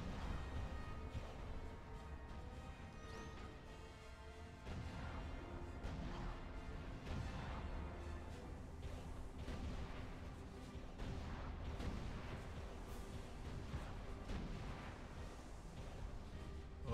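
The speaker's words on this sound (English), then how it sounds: "They shoot missiles when they're underwater." Missiles firing and exploding in the video game Supreme Commander, a dense, continuous barrage of booms and crashes under a steady rumbling battle noise, heard at a faint level throughout.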